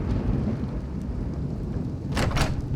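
Thunderstorm in the video game Skyrim: a steady low rumble of rain and wind throughout, followed near the end by two sharp, close cracks of thunder, with no talking.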